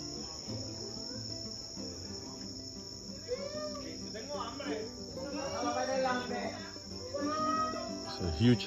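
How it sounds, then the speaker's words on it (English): Crickets chirp steadily outside in front of a house at night, a constant high-pitched trill running throughout while people talk and other outdoor sounds come and go. "You hear the crickets, right? I love that sound."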